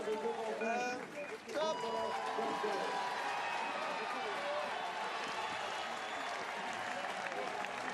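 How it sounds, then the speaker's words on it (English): A roadside crowd cheers a rider during the 2016 Tour de France stage 13 individual time trial at La Caverne du Pont d'Arc, loud sustained applause and shouting with a brief dip, continuing as a dense roar. "He'll get a big cheer out of the ramp, believe me."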